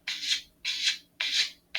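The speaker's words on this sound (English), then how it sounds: "I'm taking longer strokes of the sanding block here instead of sideways" A sanding block rubs along the body of an Estes Great Goblin model rocket in long strokes, four even, close, raspy passes in a regular rhythm with short pauses between them.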